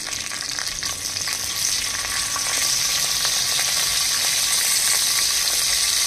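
Curry leaves crackle in hot oil with mustard seeds for a drumstick curry, a loud, close, continuous sizzle that swells slightly after the first couple of seconds.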